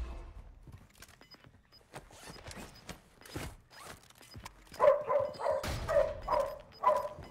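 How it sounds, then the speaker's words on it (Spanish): A dog barks in a run of loud, close, repeated yelps and barks, growing more intense in the second half amid scattered rustling noise. "¡Perro!"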